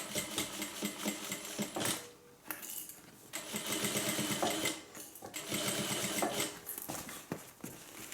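A sewing machine stitches fabric for a hippie van project in several rapid, rattling runs close by, with short pauses between bursts.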